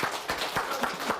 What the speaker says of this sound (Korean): 우리 유연석 큰 박수 부탁드리도록 하겠습니다